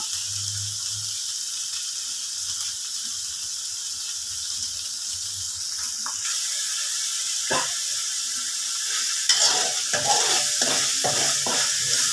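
Fingerroot chili paste stir-fries in a pan with pork in the dish, a steady loud sizzle and hiss broken by scraping stirs that grow busier toward the end.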